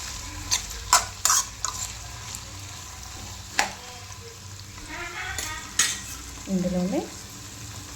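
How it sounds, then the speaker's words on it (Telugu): Vegetables frying in oil for Telangana-style pappucharu, a low sizzle broken by sharp spoon clicks and scraping against the pan, with a brief spoken word. "ఇవన్నింటిని మంచిగా ఆయిల్లో ఫ్రై చేసుకోవాలండి."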